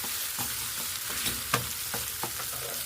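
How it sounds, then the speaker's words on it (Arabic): Sausages frying in a pan, a continuous hiss of hot oil with a few sharp scrapes and knocks as they are stirred, close and moderately loud, no voices present. "وهنحط السوسيس، نقلب مع بعض كده شويه"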